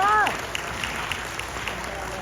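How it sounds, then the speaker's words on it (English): An audience in a Queens theater at a borough event claps briefly after a speech, a short burst of scattered hand claps that thins out quickly over a couple of seconds. "We'll clap for that."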